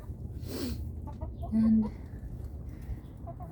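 Year-old Easter Egger chickens cluck softly in a backyard flock, a steady low murmur of fowl sounds with one brief louder call near the middle, while a person speaks briefly over them.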